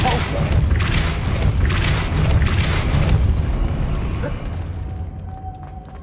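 A Depulso spell cast in Hogwarts Legacy lands as a loud, rumbling boom with crashing debris that decays over several seconds into quiet.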